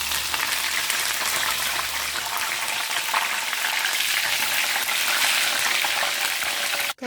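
Curry leaves fry with peanuts in hot oil, giving a dense, loud, crackling sizzle that stays steady and close, then cuts off with a sharp clack at the end.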